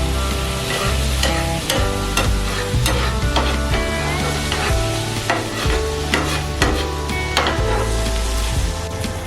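Banana milk French toast sizzles steadily in a hot pan, with milk added while a utensil stirs and scrapes, giving repeated sharp clicks over the continuous fry.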